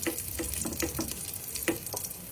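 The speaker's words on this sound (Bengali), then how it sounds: "তেলটা গরম হয়ে গেছে, আমি এখানে একটু বেশি করে রসুন কুচি দিয়ে দিচ্ছি।" Plenty of chopped garlic frying in hot oil and butter, a dense crackling sizzle with quick soft pops and taps, steady and close.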